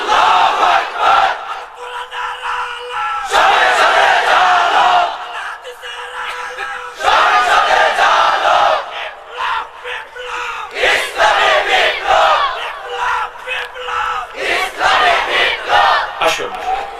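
A large crowd at a Bangla religious sermon gathering shouts "Allahu Akbar" in unison, answering repeated takbir calls in several loud, sustained bursts, with a single leading voice calling out between the roars.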